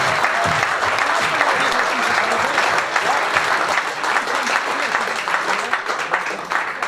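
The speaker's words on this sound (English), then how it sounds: "I think that deserves a round of applause" A fan forum audience breaks into sustained, dense applause, steady and loud for several seconds with a faint voice underneath near the end.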